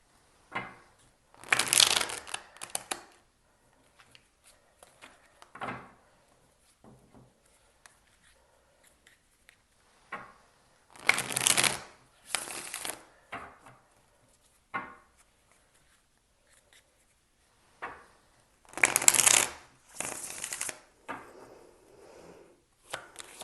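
Tarot cards are shuffled close up in several separate bursts of rapid riffling and sliding paper, with softer taps and handling noises between them in a quiet room.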